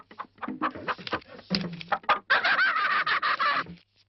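Chickens cluck and squawk in a busy, close burst of calls, rising into a louder continuous flurry near the end.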